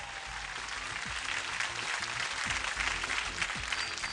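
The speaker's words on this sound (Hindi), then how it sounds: "तालियां हो जाए" Audience applause for a singer on stage at a televised singing competition, a dense, steady wash of clapping throughout with faint musical tones underneath.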